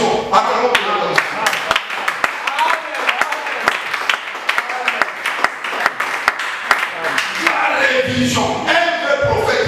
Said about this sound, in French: Acclamons pour la révision.